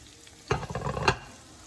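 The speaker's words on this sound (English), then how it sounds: "so we'll fry this second batch up" Shrimp frying in oil for po'boys, a brief burst of crackling sizzle as a batch goes in, rising and fading again within about a second.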